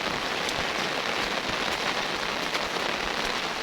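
Heavy rain pours steadily on an outdoor surface, a dense, continuous hiss with scattered drop impacts, loud and close throughout with no voices.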